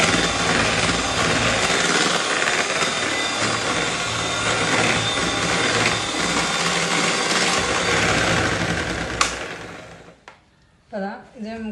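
An electric mixer beats ganache into chocolate mousse cream, giving a loud, steady whirring drone for about nine seconds before it cuts off, followed by a few brief quieter sounds.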